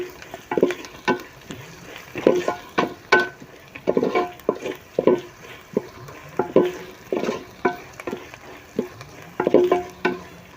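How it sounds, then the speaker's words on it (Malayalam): Onion, garlic, green chili, ginger, curry leaves and coconut pieces frying in a pan for a toddy-shop style chicken curry, with repeated spatula scrapes and stirring knocks over a low sizzle. "സവാള വെളുത്തുള്ളി പച്ചമുളക് ഇഞ്ചി വേപ്പില തേങ്ങാക്കൊത്ത് ഇതെല്ലാം നന്നായിട്ടൊന്ന് മൂത്തിട്ടുണ്ട്"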